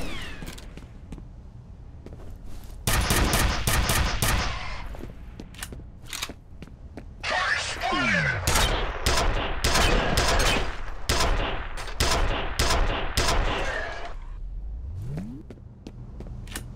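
Gunfire from the video game F.E.A.R.: loud, dense bursts of automatic fire and rapid shots come in two long volleys, split by a brief lull, with sharp single cracks scattered around them.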